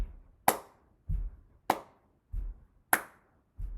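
Hand claps mark a 4/4 pattern, alternating loud sharp claps with softer lower ones in a steady even pulse, close and dry, with no talk.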